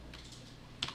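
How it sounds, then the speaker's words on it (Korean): Computer keyboard keys are pressed for shortcut combinations, a few soft clicks followed by a sharper keystroke near the end, close and quiet against faint background hum. "자, 컨트롤 쉬프트 홈 눌러서 자 이제 컨트롤 C를 눌러요"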